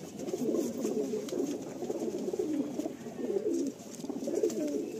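A loft full of Madrasi pigeons keeps up a dense, overlapping cooing, the soft throaty phrases rising and falling in waves near at hand without any voices over them.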